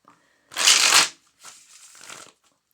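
Tarot cards are riffled in two quick bursts, a loud crisp flutter followed by a softer, longer shuffle, then silence.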